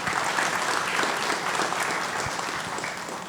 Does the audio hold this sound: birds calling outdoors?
no